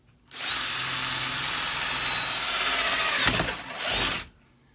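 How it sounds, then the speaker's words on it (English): Power drill boring a hole through a wooden bird feeder board with a dull bit, a loud continuous whine lasting about four seconds, briefly catching and dipping near the end before stopping. "I wish I had a sharper drill bit."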